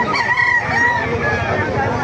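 A rooster crows close by at a gamecock market in Bocaue, Bulacan, its drawn-out call rising over a continuous murmur of the crowd.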